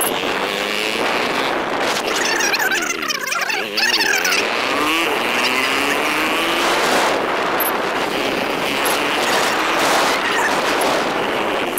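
Loud, continuous engine roar from a vehicle fitted with a modified silencer pipe, idling and revving in a jam on a rural village road, with dense traffic rumble and horn-like tones layered throughout.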